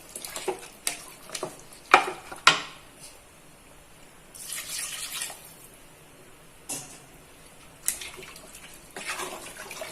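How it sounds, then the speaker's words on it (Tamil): Water being poured into a pressure cooker of goat head curry, with splashing and stirring scrapes in the pot, sharp metallic clinks early on and bursts of pouring and sizzle, close and without talk. "இப்போ இதுக்கு தேவையான தண்ணி சேர்த்துக்கிறோம்."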